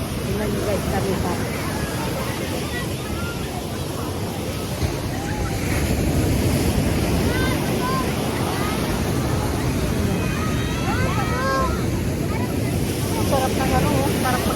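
Rough sea waves rolling onto Bagac Bay beach after rain, a broad continuous surf roar with wind buffeting the microphone, while crowd voices and talk blend in around it.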